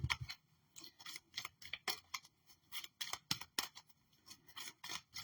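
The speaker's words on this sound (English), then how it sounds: "Let me get a good shuffle." Tarot cards shuffled by hand, a quick run of crisp riffling snaps and soft rubbing flicks, close and fairly quiet, with no talk.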